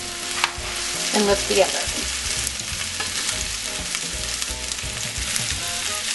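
Stuffed pork chops hiss and crackle loudly as they are laid into a hot frying pan, a dense continuous sizzle with spattering, while a person speaks briefly over it.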